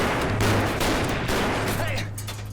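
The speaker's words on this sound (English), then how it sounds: "Come on, stop shooting!" Gunfire from the TV show Bates Motel crackles as a dense, loud burst of rapid overlapping shots that fills the moment, with a low steady hum beneath and the barrage easing slightly at the end.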